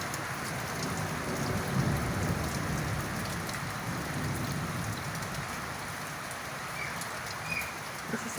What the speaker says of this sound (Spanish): Ese es el ruido de los truenos.